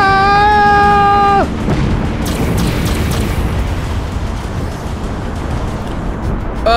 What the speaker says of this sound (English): Shoot the torpedoes! Fire the missiles!